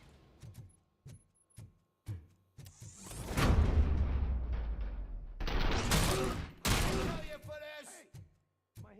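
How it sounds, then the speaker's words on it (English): Gunfire in the RoboCop video game: scattered sharp shots give way to a long, loud sustained volley and a second heavy burst, with mechanical game sounds between. "Am I hearing gunshots?"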